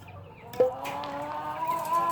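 Indio Gigante chicks and hens cluck and peep together in a steady chorus, close by, with no talking.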